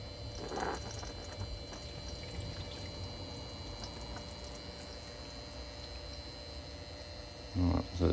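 Water flowing over a homemade miller table used for e-waste gold recovery, a steady low wash with a faint hum, quiet and continuous, with a brief knock near the end.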